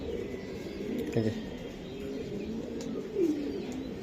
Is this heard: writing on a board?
no